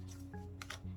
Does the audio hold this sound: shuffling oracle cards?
yes